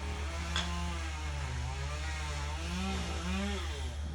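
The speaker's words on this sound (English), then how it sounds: "In between chainsaw next door, trimming up the palm trees." A chainsaw drones steadily at a distance while trimming palm trees next door, its engine note rising and falling slightly as it cuts, continuous and fairly faint throughout.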